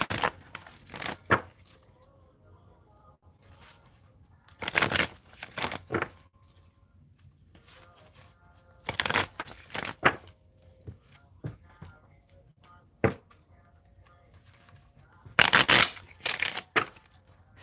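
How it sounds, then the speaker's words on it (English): Tarot cards being shuffled by hand in bursts of riffling and flicking, several short rustling flurries separated by quiet pauses, close and fairly soft. "y'all got to see me ever shuffle the cards as far as exactly how I do it"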